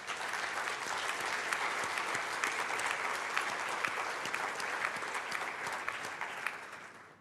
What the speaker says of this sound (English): just give those guys a quick round of applause